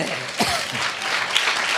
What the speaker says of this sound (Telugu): ఉప్పరపాలెం సంగమా చప్పట్లు కొట్టండి